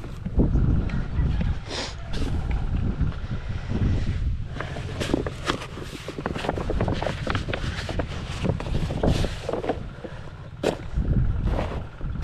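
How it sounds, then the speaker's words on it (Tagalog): Wind gusts through an okra field, a steady rough rush that buffets the microphone, with scattered rustles and knocks from the plants throughout. "May hangin siya."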